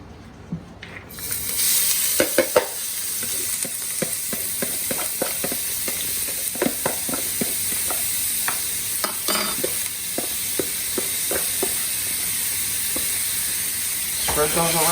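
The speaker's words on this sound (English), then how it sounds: "we're gonna add our onions." Onions tipped into shimmering hot oil in a pan for a homemade tomato sauce, sizzling and crackling steadily close up, with scattered scrapes and clicks of stirring throughout.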